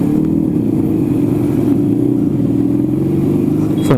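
Restored Rajdoot 350 motorcycle riding along an open road, its exhaust giving a steady, loud, low thrumming drone that holds nearly constant throughout, with no voices.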